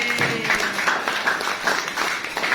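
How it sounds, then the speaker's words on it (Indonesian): A classroom of students claps together after answering a lesson quiz correctly, a busy rippling round of applause with a steady pulse of hand claps throughout. "Tepuk tangan untuk itu."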